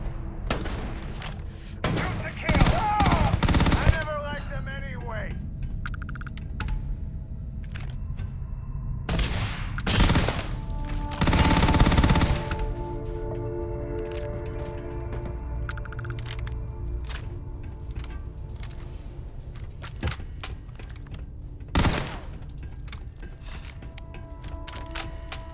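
Sporadic bursts of weapon fire in the video game Starfield, loud clusters of shots separated by long quieter stretches filled with low mechanical hum and clicks.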